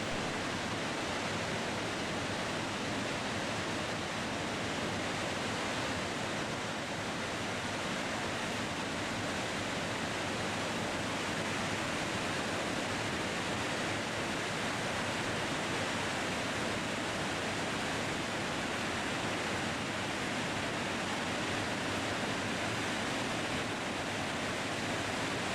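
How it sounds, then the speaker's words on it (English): Shoshone Falls in Twin Falls, Idaho, a waterfall 212 feet tall and over 900 feet wide, thunders as a loud, dense, unbroken roar of falling water that fills the air without pause. "This is Shoshone Falls."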